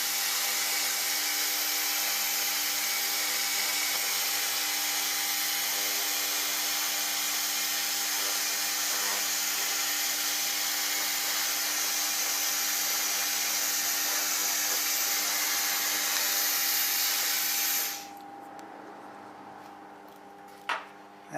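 An AccTek 1000W fiber laser cleaning machine works over metal, giving a steady, loud broadband hiss with a constant hum that runs unbroken for about eighteen seconds, then cuts off abruptly and leaves quiet room tone.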